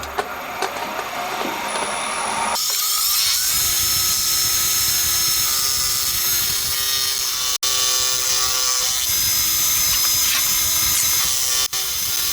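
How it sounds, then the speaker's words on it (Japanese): A high-pitched, steady machine whine cuts away a protrusion on a handmade cylinder for a 125cc four-cylinder, 16-valve engine. The tone is loud and continuous, shifts after the first few seconds, then holds with only two brief dropouts. "さて、ではとりあえずこの出っ張り分だけ削っちゃいますね。"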